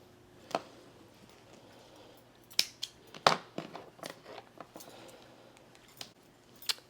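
Scissors snip through yarn after a crochet round is fastened off: several sharp, quiet cuts spaced irregularly with soft handling rustle in between.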